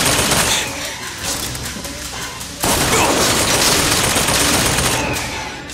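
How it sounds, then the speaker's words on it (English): Shotgun blasts tear into a mechanical turret in the BioShock Infinite video game, a loud dense burst of rapid gunfire that cuts in sharply midway and keeps roaring close and continuous to the end. "taking a shotgun to it and blowing it to smithereens"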